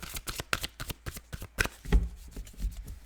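A new, slippery deck of tarot cards being shuffled, with a quick run of close riffling flicks and taps in an uneven rhythm, heard alone at moderate level.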